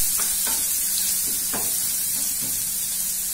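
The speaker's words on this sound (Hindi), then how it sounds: "अब डालेंगे हम लहसुन, थोड़ा से पकाएंगे।" Garlic sizzles steadily in hot oil for a besan stuffed chilli curry, a constant frying hiss broken by a few soft stirring scrapes and taps, close up with no talk.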